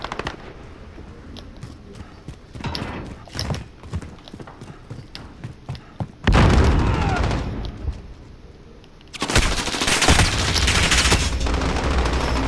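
Gunfire in Call of Duty: Modern Warfare, rapid bursts of shots and sharp cracks amid busy multiplayer game sounds, with two loud dense bursts of firing and explosions in the second half.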